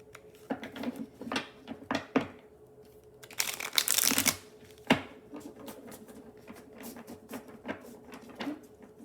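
Tarot cards riffle and snap in short bursts, with one longer cascading shuffle near the middle, close and fairly quiet with no talking.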